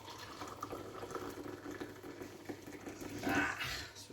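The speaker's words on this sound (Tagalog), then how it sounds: "Lagyan natin ng tubig guys." Water poured to fill a container while making native bread, a broad steady splashing wash that swells louder near the end.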